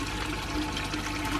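Water rushing from an aquarium filter outlet into a fish tank, a loud, continuous close-up gush and splash with no pauses.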